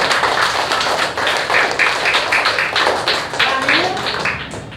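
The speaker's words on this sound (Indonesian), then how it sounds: "tepuk tangan untuk kita" Primary schoolchildren in a classroom at SD No. 1 Kerobokan clap their hands together in a loud, rhythmic run of sharp, evenly spaced claps that continues steadily throughout.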